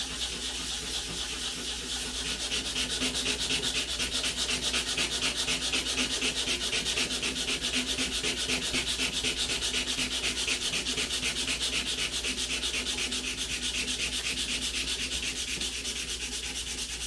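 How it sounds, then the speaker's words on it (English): Continuous rapid rasping of sanding metal on a hatchet, a fast even back-and-forth scrubbing that holds steady for a long stretch, close up and without talk. "start sanding that metal."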